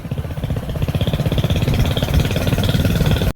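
A farm tractor's engine runs close by, a steady throbbing mid-pitched chug with rhythmic pulses that grows slightly louder and rougher partway through, then cuts off abruptly at the end.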